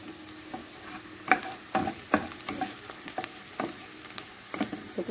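Chopped onion sautéing in a pan until golden, for macaroni with corn, gives a soft steady sizzle broken by irregular scraping stirs of the utensil, close up.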